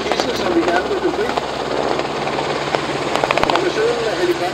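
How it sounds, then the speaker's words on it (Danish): An armed formation of Danish Air Force helicopters (EH-101 Merlin, AS-355 Fennec and MH-60R Seahawk) performs at an airshow, the rotors thumping steadily beneath a commentator's voice over a loudspeaker. "Formationen af helikopter er jo bevæbnet, som I kan høre."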